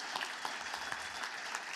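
Steady applause from a church congregation, a dense patter of many hands clapping at moderate distance, continuous for the whole moment.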